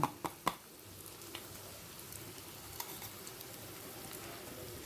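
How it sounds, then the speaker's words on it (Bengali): Ground spices frying in a pan for ghugni, a quiet steady sizzle that follows a few sharp knocks of a spoon against the pan at the start, with no talking. "ভালো করে মশলাটা কষিয়ে নেব"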